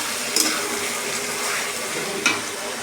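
Chicken and potatoes with spice paste sizzling steadily in a pan, close and continuous, with a couple of brief scraping clinks as the mixture is stirred.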